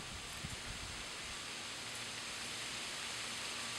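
Wind blowing outdoors during a flow lesson: a steady, faint broadband rush with no distinct gusts and no talking.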